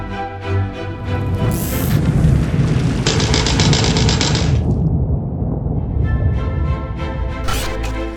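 Battle sound effect of continuous gunfire with deep booms and rumbling blasts from the 1932 Constitutionalist Revolution in São Paulo, dense and loud throughout with no pause.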